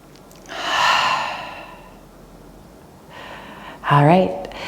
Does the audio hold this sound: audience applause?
no